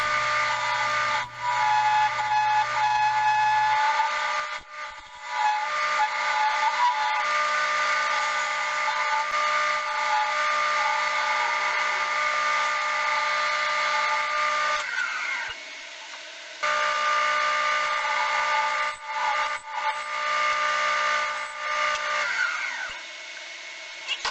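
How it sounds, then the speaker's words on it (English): A wood lathe spins an acorn box while a heavy round nose scraper takes finishing passes, a loud steady motor whine with a scraping rasp, the cut briefly breaking off and resuming. "I switched over to the heavy round nose scraper, which you'll see here momentarily, and did the finishing passes."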